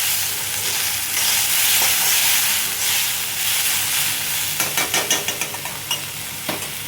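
Mixed vegetables cooking in a pan for vegetable rice, a steady close hiss and sizzle, then a run of sharp rhythmic taps and knocks toward the end.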